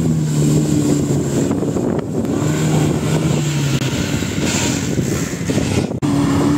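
A five-door SUV's engine drones and revs steadily in low-range four-wheel drive through mud, with wind buffeting the microphone and no voices.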